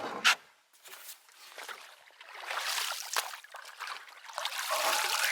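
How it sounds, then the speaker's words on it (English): A hat is dunked in lake water after a brief quiet moment, with close splashes and trickles and a steady wet sloshing and dripping that continues throughout. "I'm going to dunk my hat right now in this water."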